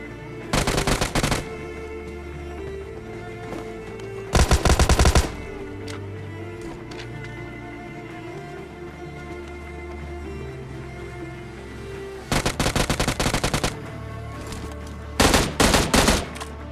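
Bursts of M16 gunfire in the BGMI battle royale game, four separate rapid-fire volleys spaced several seconds apart, loud and sharp against a quiet game ambience.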